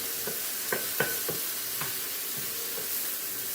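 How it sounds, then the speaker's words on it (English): Pork pieces browning in a pan, a steady low sizzle with a few scattered clinks and scrapes of stirring, close and fairly quiet, no voices. "just making sure that all my pieces get evenly browned"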